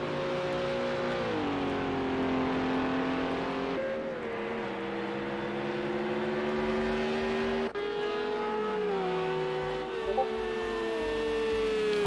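Mercedes race car in a video game at Hockenheimring, its engine droning steadily and close with sliding pitch through gear changes and revs, a continuous loud whine.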